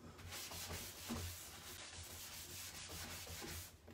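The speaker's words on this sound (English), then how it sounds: "I'm just rubbing it back, making sure that every area feels nice and smooth." Finishing wax is rubbed over a wooden furniture piece to polish it, a steady soft scrubbing friction with faint rhythmic strokes, heard alone.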